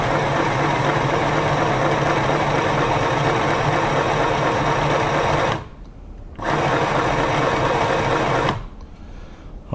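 A Singer Pixie Plus sewing machine runs with a steady, loud mechanical whir, stops briefly, then runs again before a second pause near the end; no one talks.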